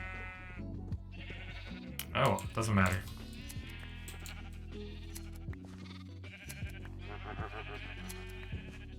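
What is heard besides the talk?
sheep bleating in video game Minecraft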